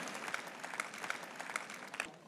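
Church congregation applauding during a sermon, a quiet, steady patter of clapping with a few sharper individual claps standing out, somewhat distant and low in level.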